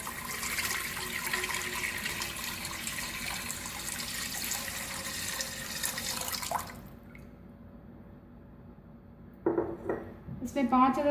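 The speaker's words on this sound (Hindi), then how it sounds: "सबसे पहले दूध शामिल करेंगे।" Milk, about 1.5 kilograms, pours steadily into a metal pot for sheer khurma, a continuous close splashing stream that ends abruptly, followed by a few clinks of the pot.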